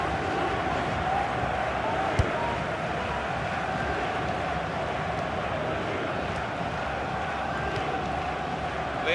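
A stadium crowd in the FIFA 16 football video game, during an FA Cup quarter-final, roars steadily after a near-miss shot, a dense sustained wall of crowd noise.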